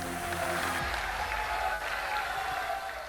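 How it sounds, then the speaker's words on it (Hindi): Audience applause fills a large religious gathering, a dense steady wash of clapping that holds loud across the whole stretch with no one speaking over it. "पूरी सभा तालियों की गड़गड़ाहट से गूंज उठी।"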